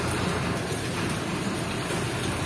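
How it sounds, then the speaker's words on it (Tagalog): Steady, dense hiss of rain falling without pause, loud and continuous throughout, with a low rumble underneath and no voices; rain at an outdoor truck repair site. "Mga idol, ayaw talaga huminto ng ulan. Ng ambon."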